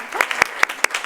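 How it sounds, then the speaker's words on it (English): A handful of separate, sharp claps ring out at a youth sustainability event, spaced about a fifth of a second apart in a sparse, uneven rhythm, fairly close and moderately loud, with a faint voice briefly underneath. "So again, another round of applause."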